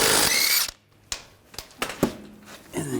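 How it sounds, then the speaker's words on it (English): Impact-style power tool spinning off wheel lug bolts on a Volkswagen Tiguan: a loud, close buzzing whir, a pause filled with a few metallic clicks and knocks, then the tool whirs briefly again. "we're going to take these lug bolts off."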